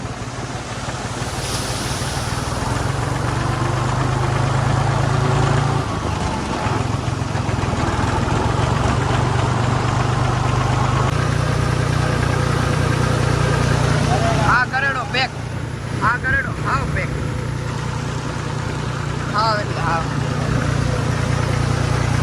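A large tractor engine drones steadily amid flooded farm fields, a continuous low hum mixed with wind buffeting and water noise while people talk over it.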